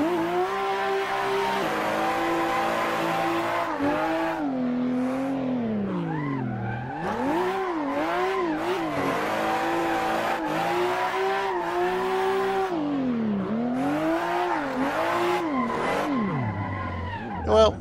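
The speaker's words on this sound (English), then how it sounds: "Just something about a bunch of tire smoke coming off the back of an old Ford." Grandpa's old Ford Crown Victoria drifting, its engine revving loud and steady with repeated rises and falls in pitch as the tires squeal, running nonstop close up with voices talking underneath.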